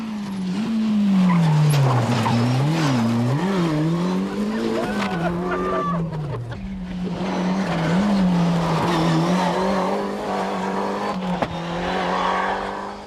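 A Nissan rally car engine drones and revs up and down while tires squeal and scrub through a long skid across the road, loud and close, at the 1994 Ulster Rally.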